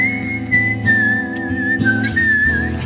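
A single person whistles a melody through two fingers, a clear sustained tune with gliding pitch changes, heard alone over a dense backing track.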